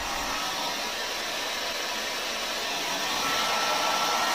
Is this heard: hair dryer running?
yes